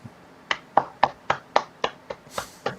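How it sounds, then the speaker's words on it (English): Hands clap in a slow, evenly spaced series of about ten sharp, close claps, isolated with quiet gaps between them. "Oh, it's no boo. It's clapping."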